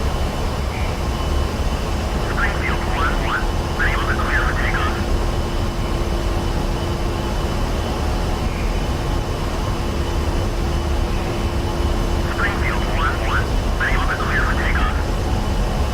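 An A-10C jet on its takeoff roll in the DCS World flight game on a Syria map, a steady loud engine roar throughout with brief faint beeping tones twice.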